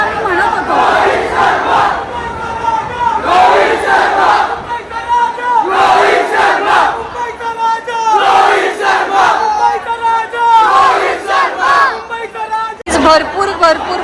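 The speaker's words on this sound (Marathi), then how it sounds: "भरपूर भरपूर भरपूर गर्दी आहे" A large crowd of cricket fans chants and cheers in rhythmic surges, dense voices rising and falling close by, packed together at a World Cup event with the Indian team.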